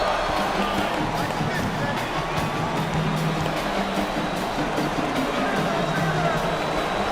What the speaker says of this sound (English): The crowd continues to chant.